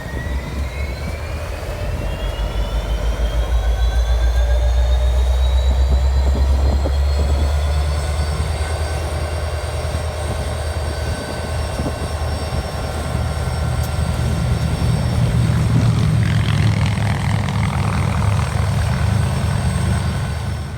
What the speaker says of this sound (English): for some reason the lead engine was revving up, even though it didn't end up going anywhere